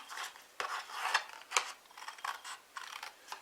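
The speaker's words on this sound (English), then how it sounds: "using your snips, you can cut all the way up through the middle of that score line" Hand snips cutting through cardstock along a score line for a center easel card, heard as a series of crisp, close snipping clicks and slicing rustles in an irregular rhythm, with no talk.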